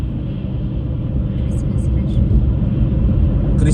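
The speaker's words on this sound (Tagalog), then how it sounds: "Daming sasakyan pa rin." Steady road traffic in Edmonton during a Saturday afternoon Christmas rush, a continuous low rumble of many cars passing at moderate distance, loud and unbroken throughout.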